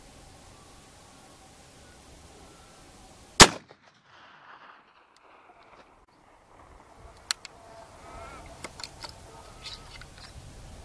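An 1874 Sharps Quigley rifle fires once at long range, a single sharp, loud crack that ends abruptly over quiet outdoor air, followed by faint handling sounds and clicks.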